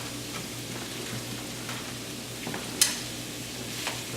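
Stick of margarine dropped into a hot pan with celery and stirred, giving a soft continuous sizzle with light scraping stir strokes and one brief clack, fairly quiet and without talk.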